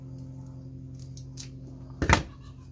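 A comfrey root crown is sliced in half with one short, sharp cut that crunches through at close range, set against a low steady background hum.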